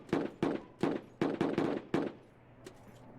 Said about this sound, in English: We're just ignoring those shots.